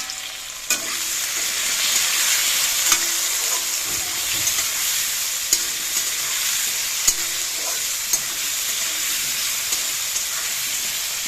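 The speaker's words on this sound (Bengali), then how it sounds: "আলুগুলো একটু ভাজা ভাজা হলে তারপরে বাঁধাকপি দিয়ে দেবো।" Potatoes sizzle steadily in a pan as the first step of a simple cabbage dish, with scattered clicks and scrapes from stirring throughout and no talking.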